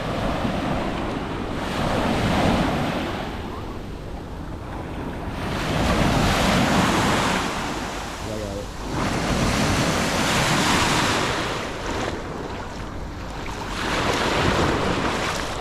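Steady wash of ocean waves at a clear-water Florida bay beach, broad surging swells rising and falling every few seconds with gusty wind buffeting the microphone throughout, no voices.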